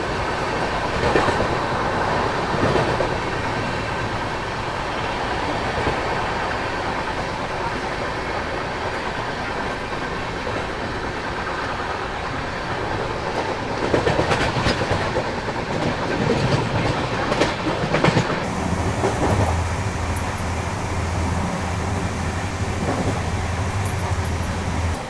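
Sampark Kranti Express passenger train in Uttar Pradesh running fast on rails, a loud continuous rumble heard from onboard with rattling and rhythmic wheel clatter, a louder rushing burst midway, then a lower steady drone.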